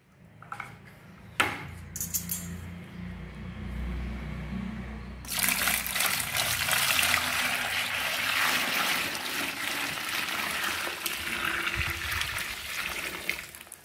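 Water poured into a container while mixing homemade phenyl, a steady broad pour starting about five seconds in after faint handling clatter and continuing loud and close to the end.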